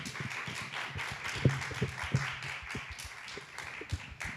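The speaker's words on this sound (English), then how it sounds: "Let's give our guests one more round of applause." An audience claps for the guests at the end of a live author conversation event. The applause is steady and moderately loud, with some low voices murmuring underneath.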